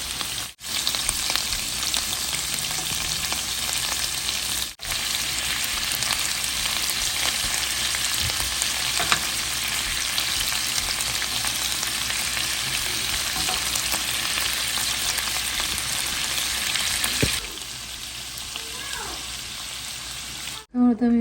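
Chicken frying in a pan gives a loud, steady hiss and crackle that runs unbroken, then drops off near the end.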